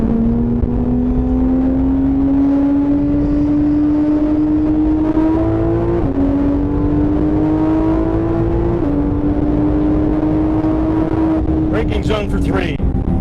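A car accelerates out of the pit lane at the PittRace circuit, its engine drone rising steadily in pitch with brief dips at the gear changes. It stays loud and continuous the whole way, with a voice talking over it.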